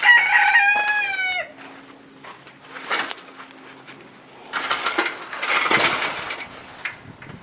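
A rooster crows loudly up close at the start, followed by hens clucking and a few sharp rattling clatters.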